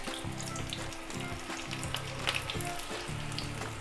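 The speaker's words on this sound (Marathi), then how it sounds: "आता त्यामध्ये आपण गोबी मंचुरियन तळून घेऊया" Gobi manchurian, battered cauliflower fritters, deep-frying in hot oil over a high to medium flame: a steady close sizzle and bubbling with soft clinks, no voices.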